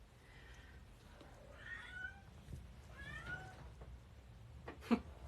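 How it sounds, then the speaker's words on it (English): A pet cat meows several times from another room, faint and somewhat distant, with a sharper, louder cry near the end over a low background hum. "My cat's back there meowing"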